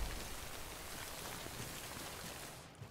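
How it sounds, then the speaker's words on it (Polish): Steady, dense rain in the video game Death Stranding, a loud even hiss of drops on surfaces filling the whole stretch, easing slightly at the very end with no talk. "Mógłbym tam przeczekać ten deszcz."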